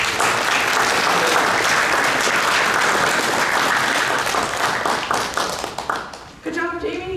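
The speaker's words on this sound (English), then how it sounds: "Let's give Jamie a big round of applause." A Toastmasters district meeting audience gives a sustained round of applause, dense and steady clapping that thins toward the end as a voice begins talking over it.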